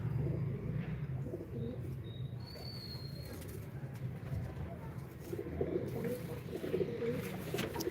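Pigeons coo softly and steadily on a rooftop, with their low murmuring continuous throughout and a faint high chirp partway through, recorded close.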